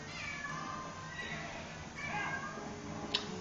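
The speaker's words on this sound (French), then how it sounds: "Oh, il m'énerve ce chat." A cat meows in The Legend of Zelda: Twilight Princess, a few moderate calls over the game's steady background sound, with a sharp click near the end.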